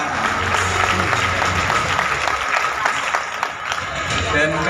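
Applause rings out from the crowd at an agriculture day ceremony in Indonesia. It holds at a steady, dense level for nearly five seconds, with a busy hall murmur running underneath.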